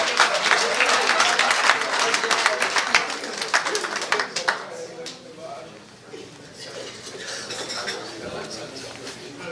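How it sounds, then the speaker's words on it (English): An audience at a community baseball awards event claps for the award winners: loud, sustained applause that thins and settles toward a softer patter, with faint talk beneath. "One more time, round of applause for our award winners."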